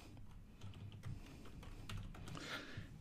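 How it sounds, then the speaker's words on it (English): A computer keyboard is typed on in quick, uneven bursts of soft, close key clicks over a low background hum while a search query goes into a diagnostics program. "type in the complaint like"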